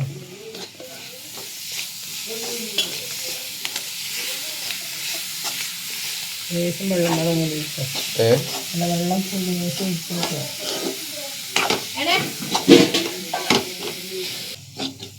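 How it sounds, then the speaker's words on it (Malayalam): Clam meat frying in masala in a pan, a steady close sizzle and hiss under repeated scraping strokes of a spoon stirring, with a few louder clatters toward the end. "ഇതിലേക്ക് നമ്മുടെ ഇളമ്പക്ക ഇറച്ചി ഇട്ട് കൊടുക്കുക"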